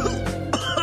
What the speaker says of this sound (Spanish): Esa tos se oye mal